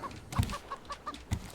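Chickens in an animal pen in the game Raft give a run of short, repeated clucks at an even pace, with a couple of low thumps mixed in, close and clear with no talking.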